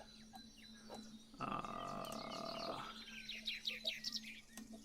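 Birds chirp in quick, repeated bursts behind a livestreamed tabletop game session, the calls fairly faint and clustered, with a brief steady droning tone in the middle.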